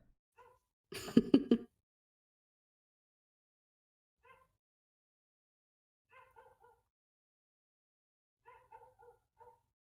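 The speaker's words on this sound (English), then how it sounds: "I hear a doggo barking." One loud close bark bursts out, then several faint, distant yips and barks follow at irregular intervals across quiet stretches.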